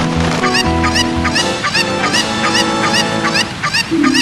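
Chicken clucks and honk-like fowl calls from the Legend of Zelda: Voyager of Time video game repeat steadily over sustained in-game musical tones, loud and close throughout.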